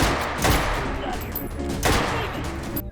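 Loud, close gunfire from a virtual-reality shooter, Hotdogs Horseshoes & Hand Grenades, with two sharp blasts about a second and a half apart, each followed by a rumbling tail, and no voice over them.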